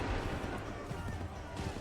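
Soldiers fire a musket volley in Assassin's Creed 3, a dense, continuous crackle of shots and rumble that lasts throughout without clear individual reports, with a voice barking orders over it.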